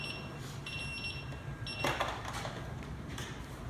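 A Belmont device gives short, high electronic beeps after its power-on self-test. They are faint against steady room hum and are followed by a brief clunk of handling.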